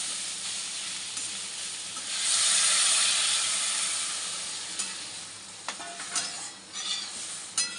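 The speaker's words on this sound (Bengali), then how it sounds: "গেছে কষানো আমরা জল দেব" Water poured into a pan of sizzling, well-fried fish masala made with small fish and radish, giving a loud surge of hiss and steam followed by scattered stirring scrapes, close up with no talk.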